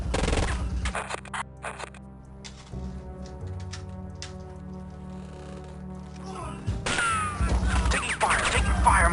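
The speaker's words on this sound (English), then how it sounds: "Taking fire. Taking fire. Automatic weapons." Automatic weapons fire in the spy video game Spycraft: The Great Game, rough bursts of rapid shots at the start and again louder near the end, with sustained tonal music between them.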